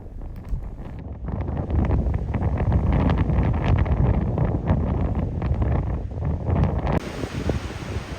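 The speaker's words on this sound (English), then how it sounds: "Gets pretty windy out here" Strong wind blows steadily at Turtle Bay Resort on Oahu's North Shore in Hawaii, roaring and buffeting close to the microphone for the whole stretch, with no voices.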